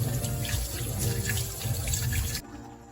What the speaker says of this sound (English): After that, we'll rinse with enough water.